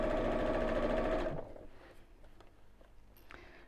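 A sewing machine stitches fabric with a fast, even mechanical whir for about a second before stopping, followed by quiet handling noises.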